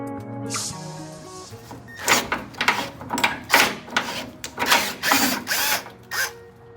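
Metallic ratcheting and wrenching sounds from a bolt extractor backing out a bolt on a 1985 Jeep CJ7, a series of loud, irregular bursts close by with short pauses between them.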